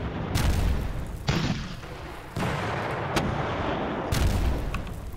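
Artillery fire in the Kursk southern flank wargame Panzer Battles Kursk, with several heavy booming shots and crashing impacts in close succession, each followed by a rumbling decay. There is no talk.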